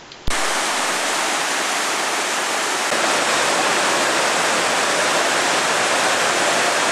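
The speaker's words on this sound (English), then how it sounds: "And here is Lower Johnson Falls." Lower Johnson Falls on Johnson Creek in Banff roars as a loud, steady broadband rush of falling water that begins abruptly and continues unbroken, close and alone without voices.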